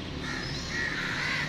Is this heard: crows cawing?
yes